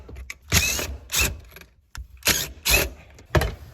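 Hand ratchet working loose parts under a Toyota 4Runner 3.0 while removing the shifter unit, heard as five close, loud bursts of rapid clicking ratcheting separated by brief pauses.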